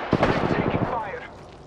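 Gunfire in the battle royale video game Apex Legends: a quick burst of rapid shots followed by fading reverberant rumble, fairly loud and close, with an in-game voice line mixed in.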